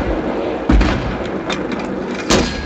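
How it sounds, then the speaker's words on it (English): Mortar fire and explosions in a video game, a few sharp booming thuds spaced irregularly over a steady background, loud and close. "It must be boring watching me mortar"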